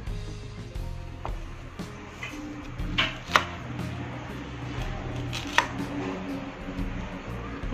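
A knife chops young banana fruit for the Acehnese dish boh pisang peuleumak, with steady soft cuts against a board and a few sharper knocks standing out, close and clear with no talking.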